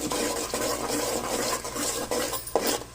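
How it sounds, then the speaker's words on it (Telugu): Tomato paste for an egg biryani fries in a pot while a utensil stirs and scrapes it, a close scraping and clinking with a bubbling sizzle beneath, the strokes recurring irregularly, no talking. "టమాటా పేస్టు పచ్చి స్మెల్ పోయేంత వరకు బాగా వేయించుకోవాలి"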